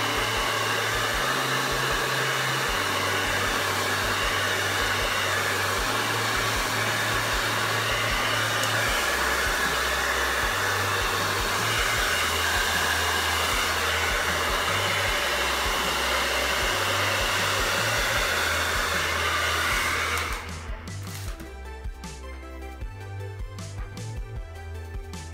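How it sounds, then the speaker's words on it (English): A hair dryer blows steadily and loudly on thick hair, its pitch shifting between settings before music takes over near the end. "So that is my blow dry."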